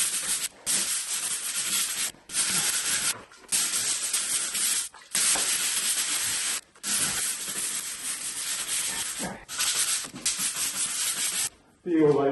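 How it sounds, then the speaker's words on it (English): A stone house surface is scrubbed in long, loud, hissing strokes, broken by brief pauses between passes, with no voices over it. "just going to give this another quick scrub"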